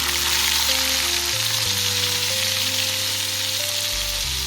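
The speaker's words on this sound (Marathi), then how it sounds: "आपण त्यामध्ये आता लसूण घालून घेणार आहोत त्यानंतर थोडी मोहरी घालून घेते चिरलेली मिरची" Garlic, mustard seeds and chopped chilli hit hot oil for a kartule bhaji, giving a loud, constant crackling sizzle with soft background music playing underneath.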